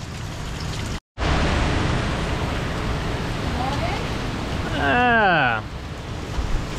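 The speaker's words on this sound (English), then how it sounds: "We're getting some more powerful gusts, I can tell you that." Strong hurricane wind gusts roar steadily into the microphone during a Category 2 storm, broadband and loud with a brief cutout, while a voice briefly exclaims.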